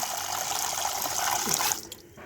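Tap water runs and splashes into a bucket while small sandy shrimp are being washed, a steady close rushing flow that cuts off near the end, with no talking.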